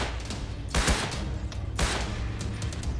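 Bursts of rapid gunfire from close by in the video game Rust, two loud volleys over a dense, noisy background.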